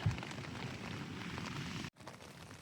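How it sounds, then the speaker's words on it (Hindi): Wind and rain during wild camping at the Sweden-Norway border, a dense steady patter and rush close to the microphone that cuts off abruptly near the end before resuming more quietly. "तो ये हवा और बारिश तेज़ हो गई है।"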